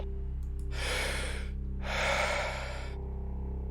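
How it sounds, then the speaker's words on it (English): In the horror game Radio.Signal, the floor of a hospital breathes: two slow, hissing breaths swell and fade over a steady low hum. "Is that the floor breathing?"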